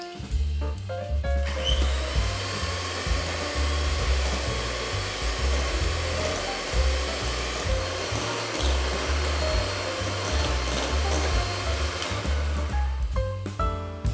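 An electric mixer beating eggs, milk and vanilla in a large bowl for peanut butter cake batter, a loud, steady motor whir that runs for most of the stretch and then stops, with no talking.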